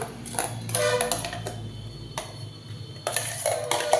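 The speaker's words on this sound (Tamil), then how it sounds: "இப்போ இதை அரைச்சது சொரக்காயை இதில் நம்ம கலந்துக்கலாம்" Ground bottle gourd is mixed into dosa batter in a metal vessel, with a series of sharp clinks and scrapes of a spoon against the bowl in irregular bursts, fairly close and without talk.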